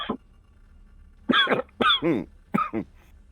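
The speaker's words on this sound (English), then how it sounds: "I actually had a real cough" A person gives a few short, quiet coughs, one single and then a couple of paired bursts, close to the mic in a quiet room.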